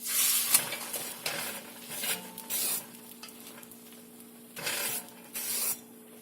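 An egg dosa cooks on a hot pan, crackling and sizzling loudly while a spatula scrapes and flips it in several bursts over a continuous frying hiss.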